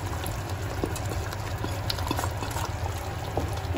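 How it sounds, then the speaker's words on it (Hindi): Fried paneer cubes are dropped into a simmering restaurant-style paneer curry and stirred in the pan, a steady bubbling, sloshing texture with soft irregular thuds and scrapes, close and continuous. "अब इसमें फ्राई करे हुए पनीर डाल दूंगी जो मैंने फ्राई करके रखे थे"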